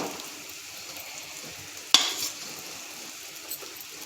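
Egg noodles stir-fry in a hot pan with a soft continuous sizzle, plus one sharp metallic clatter of a spoon midway and faint stirring scrapes, near and without talk.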